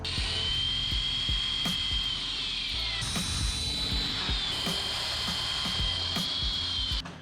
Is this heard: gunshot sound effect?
no